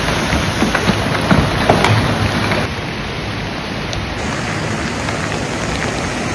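Heavy rain and gusting wind from Typhoon Kompasu on the Ruigang Highway near Qimei village pour down as a loud, dense, continuous roar that eases slightly partway through, with no voices.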